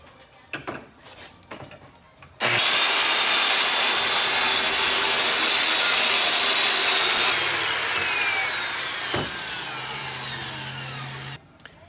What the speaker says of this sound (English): we're going to scribe our line on the 13 by 20 shelving piece before we saw it